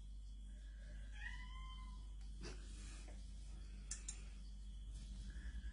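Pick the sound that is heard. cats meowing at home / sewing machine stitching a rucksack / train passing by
cats meowing at home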